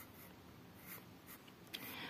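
A pencil sketches on paper while a cat is drawn, giving a quiet, steady scratching with a few brief sharper strokes, close and faint, with no voices.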